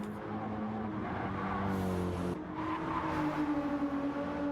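A Nissan GT-R racing car roars steadily past at speed during the Nürburgring 24-hour race, its engine note loud and continuous with a slight shift in pitch as it goes by.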